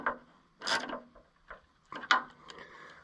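Ratchet wrench working on parts of an Oliver 1365 tractor during cooling, wiring and fuel system repairs, giving a few separate bursts of quick clicking and rasping pawl ratchets, close and moderately loud with pauses between strokes.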